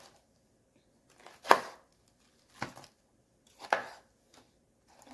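Knife chopping through a cabbage on a board, halving it into pieces: three sharp, separate thuds spaced about a second apart, close and crisp against a quiet kitchen.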